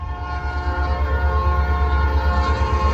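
A southbound Norfolk Southern train rumbles steadily past nearby, its horn holding a sustained, tonal blast over the low, continuous roar of the rolling cars.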